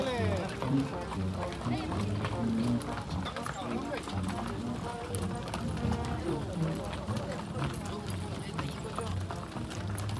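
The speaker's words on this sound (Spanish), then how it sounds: "Aquí van los muchachos de a caballo." Horses clop along in a cavalcade during a religious festival procession in Ejido Martínez, Alaquines, their hooves beating continuously and fairly near beneath voices and crowd noise.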